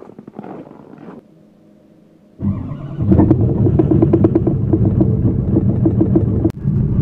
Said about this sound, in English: here's a cold start for you.